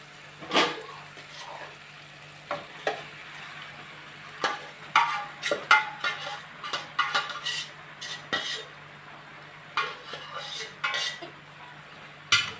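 A spoon or spatula clanks and scrapes in a pan while boiled pasta is stirred with chili powder and tomato masala. The strikes are close and come in irregular bursts throughout, with no talking.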